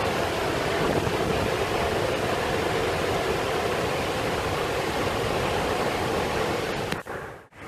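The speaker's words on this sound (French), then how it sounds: "Ben regardez la cascade." A powerful waterfall roars in a steady, dense wash of rushing water, loud and close. It holds evenly before cutting off abruptly near the end.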